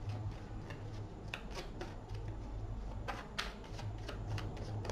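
Tarot cards riffle and snap in quick clicking bursts, close up and fairly quiet, with a faint hum underneath.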